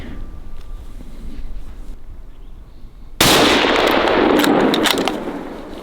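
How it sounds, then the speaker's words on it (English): Rifle fire at a bull elk during a Wyoming backcountry hunt: after a quiet stretch, one loud, abrupt blast erupts at close range, then its sharp echo and rumble decay slowly. "Let him turn and let him have it. Don't stop shooting."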